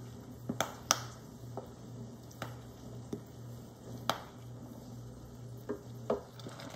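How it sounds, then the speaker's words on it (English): Whole cranberries bursting in a pot as they cook down into sauce, stirred and mashed with a wooden spoon: sparse, sharp little pops and clicks scattered over a steady low hum, fairly faint. "You can hear the cranberries popping."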